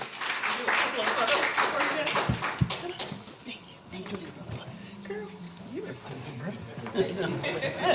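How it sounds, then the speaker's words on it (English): Scattered audience clapping at a Black Fine Art Month art event bursts out early, then fades under chatter, laughter and conversation, with a few more claps near the end. "Give yourselves a round of applause."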